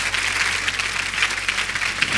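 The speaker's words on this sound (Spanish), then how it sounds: "merece un aplauso el Señor." A church congregation claps for the Lord during a baptism sermon, a steady, even wash of many hands applauding throughout, moderately loud with no voices standing out.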